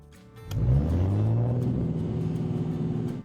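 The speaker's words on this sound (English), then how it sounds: "I can barely step on the gas because my car revs like crazy." A car engine revs hard from idle, holding a loud, steady rising drone with a throaty rumble for about three seconds, close by with no talking.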